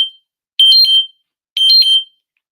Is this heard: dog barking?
no